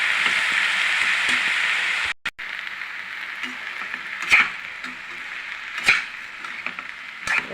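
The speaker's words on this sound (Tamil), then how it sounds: "நல்லா எண்ணெயில் கொஞ்ச நேரம் வதங்கணும் இந்த கோவக்காய்" Ivy gourd sautéing in hot oil, a steady close hiss and sizzle with occasional soft stirring clinks and a brief dropout partway through.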